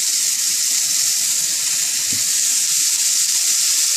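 Paneer tikka sticks sizzle steadily in a hot pan, a continuous bright frying hiss with faint crackles and one soft thud as a stick is set down.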